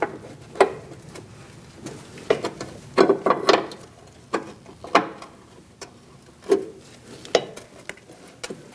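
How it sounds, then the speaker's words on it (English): A 13mm line wrench loosens a brake line fitting on a 2006-2011 Chevrolet HHR front brake, giving a series of sharp metallic clicks and clanks spaced irregularly over several seconds, close and fairly quiet. "Let's loosen up this line using a 13mm line wrench."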